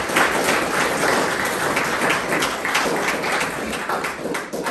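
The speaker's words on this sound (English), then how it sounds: "can we have a massive round of applause for them?" Sustained audience applause at a Volunteer Day 2023 celebration, a dense, even roar of many people clapping at moderate loudness, continuing without pause and with no voices on top.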